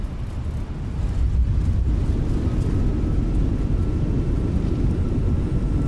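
Fenix A320 airliner in Microsoft Flight Simulator rolling out after touchdown with thrust reversers deployed, a loud, steady broadband roar and rumble that holds strong throughout without pause.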